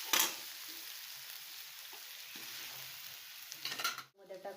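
Potatoes sautéing in a pan for sago khichdi, a quiet continuous sizzle with occasional light stirring scrapes and a louder clatter of the spoon near the end.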